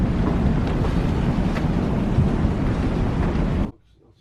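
Strong wind roars against the microphone on a sailboat crossing open sea toward the Bahamas, a loud continuous rush that cuts off abruptly near the end.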